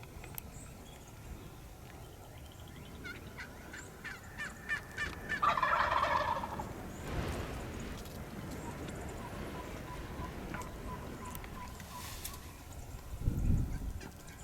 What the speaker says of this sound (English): these birds started gobbling in the timber again